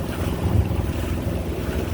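Wind rushing past a microphone on a sailboat under way during an island cruise, a steady low buffeting roar with light water movement beneath it. No one speaks.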